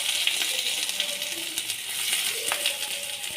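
Onion frying in a pan of hot oil, a steady broadband sizzle with faint crackles and occasional light clinks, continuous and close throughout.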